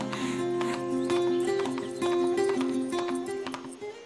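Hooves clop in a steady rhythm during a horse ride in a game, with a musical score playing over them at moderate loudness.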